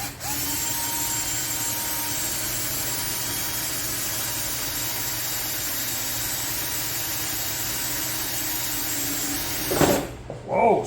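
A power drill bores into a plastic Little Tikes toy car, giving a steady, loud whine for about ten seconds before it cuts out, followed by a couple of short bursts.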